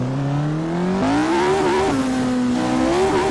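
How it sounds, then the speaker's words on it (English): Jim Clark's V8 Formula 1 car in the Assetto Corsa video game revs loud and close, its pitch climbing through gear changes with brief dips between shifts. "This is a V8 engine. So let's just hear how it sounds."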